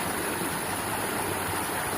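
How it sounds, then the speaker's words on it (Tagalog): A strong, fast current of mountain spring water rushes loudly and continuously, a dense broadband roar close by, with no voices. "Ito yung agos oh. Nagaroon siya kabilis."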